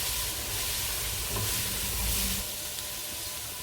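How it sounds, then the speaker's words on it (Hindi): Cabbage and mixed vegetables stir-frying in a pan for Chinese rice give a steady, close sizzle with scraping stirs and low clatter, continuous and unaccompanied. "तो ये मिक्स कर लेते हैं सारी सब्जियों को, बंद गोभी और सब्जियों के साथ।"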